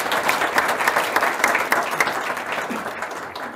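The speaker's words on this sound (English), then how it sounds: "let's applaud that answer" Audience applause in a lecture hall, a dense steady wash of many hands clapping that runs for several seconds at fairly even loudness with no speech over it.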